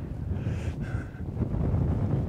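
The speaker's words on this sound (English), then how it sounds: "the wind isn't gusting to 40, it is quite strong" Strong wind buffeting the microphone on an exposed hilltop beside cliffs, a loud continuous low rumble with gusty surges, no voices.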